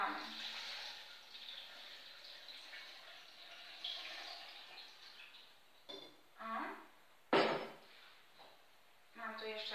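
Water pours into a pot for beet sour starter (zakwas z buraków) for barszcz, a steady broadband rush running for several seconds, then broken by a few louder splashes and clunks near the end.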